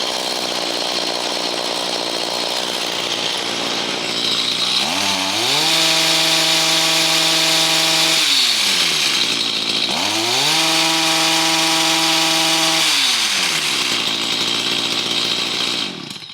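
A Stihl chainsaw running after a carburetor adjustment, its engine revving up twice into a high, steady whine and dropping back between bursts over a rough, buzzing idle, loud and close with no talking.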